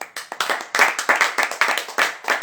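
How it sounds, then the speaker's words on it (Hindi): A church congregation claps hands in unison, a rapid, regular train of sharp, close claps of moderate loudness, with no talk over them. "ताली बजाकर दिखाइए सब जन।"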